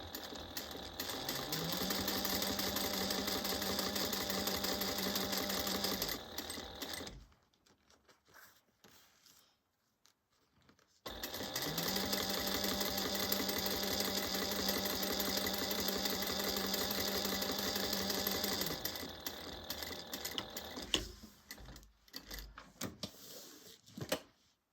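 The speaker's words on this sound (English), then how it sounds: "I'm just going to top stitch this at 1/8 of an inch" Sewing machine topstitching a bag an eighth of an inch from the edge, two long steady runs of close mechanical whirring separated by a few seconds of quiet handling.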